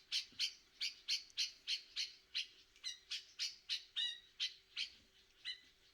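Katlachter birds calling in a quick, steady run of about twenty sharp chattering notes, some breaking into cackling trills that sound like laughter, clear and fairly close with no voices.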